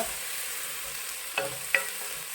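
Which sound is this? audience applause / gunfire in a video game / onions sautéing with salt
onions sautéing with salt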